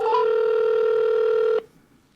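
Telephone dialing a toll-free number: a couple of quick tones followed by a steady sustained tone lasting about a second and a half, then cutting off into quiet.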